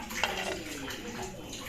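Water pours and splashes into a cooking pan during home cooking of a green garlic dish, a continuous close wash of sound lasting under two seconds.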